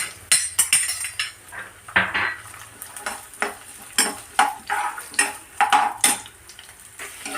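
Chopped onions and green chillies frying in oil in a pan for an easy chicken fry, with repeated metal clatter of a spoon stirring against the pan in uneven bursts over a low sizzle, close and fairly loud.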